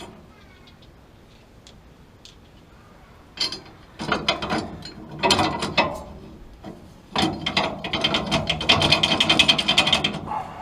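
Ratchet wrench tightening nuts onto rear drop spacers of a 2010 GMC Sierra truck, with a quiet start and then bursts of sharp clicking strokes that grow into a long steady run, close up with no talk.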